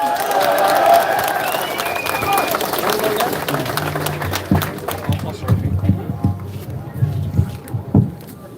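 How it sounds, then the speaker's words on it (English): A crowd at an outdoor protest applauds, with dense clapping and cheering at the start that fades into scattered claps and voices as people talk nearby. "Big round of applause."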